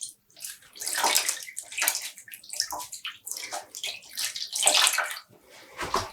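Dyed yarn skein being rinsed by hand in a bowl of water, with repeated splashing and sloshing bursts of water close by, alone with no talk.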